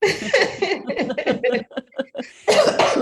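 A burst of several close, loud coughs, choppy and uneven, pauses briefly, then ends with another harsh coughing fit.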